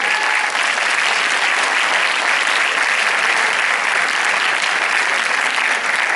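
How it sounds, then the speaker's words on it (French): Sustained applause from a cinema audience at a film premiere, dense and steady at even loudness throughout, with no voices standing out. "on peut les applaudir"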